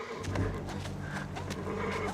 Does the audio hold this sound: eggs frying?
no